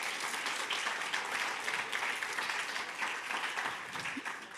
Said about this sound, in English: Want just like another quick round of applause for everyone would be great.